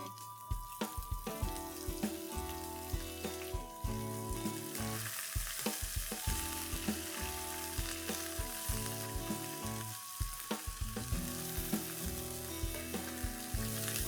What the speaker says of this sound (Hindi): अब हम डालेंगे इसमें 3 लंबे कटे हुए प्याज।